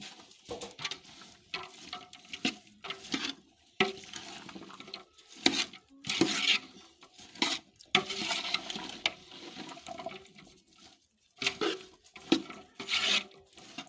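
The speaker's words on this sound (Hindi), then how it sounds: "अब इसको मसाले में अच्छी तरह से मिक्स करेंगे।" Cauliflower being stirred into masala in a pan for an aloo gobi sabji, giving repeated scraping and rubbing strokes with short pauses, close and moderately loud, with no talking.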